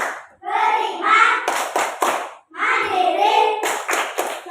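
Classroom of pupils doing a rhythmic clapping cheer, sharp claps in short grouped bursts between stretches of voices chanting in unison, close and lively.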